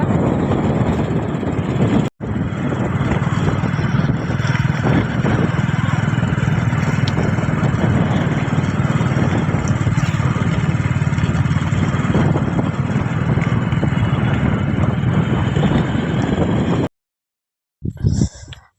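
A motorcycle carrying a married couple on a ride, its engine and rushing wind forming a steady, loud drone for about seventeen seconds, broken by a brief dropout and then a sudden cutoff near the end, with no talking.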